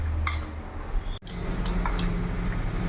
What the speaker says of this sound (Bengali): ভালো করে এইভাবে নেড়ে নেব।